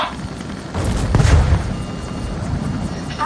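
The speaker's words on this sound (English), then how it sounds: "Missile. They're firing on us." Missile launch in the Henry Stickmin Collection game, a loud close whooshing boom that swells, peaks and fades over a few seconds.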